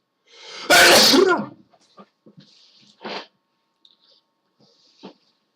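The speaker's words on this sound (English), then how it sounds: "Oh, I gotta sneeze." A single loud, explosive human sneeze bursts out close to the microphone, followed by quiet sniffs, faint breaths and small shuffling sounds.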